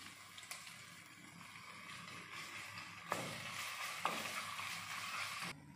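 Ginger garlic paste frying in hot oil with onions for gongura chicken, a steady soft sizzle with occasional stirring scrapes, fairly quiet and close, without talk.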